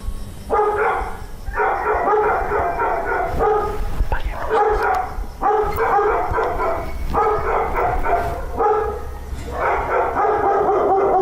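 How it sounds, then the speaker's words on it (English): Several dogs bark repeatedly in overlapping bursts, loud and fairly close, with brief pauses between volleys. "more dogs still barking from inside"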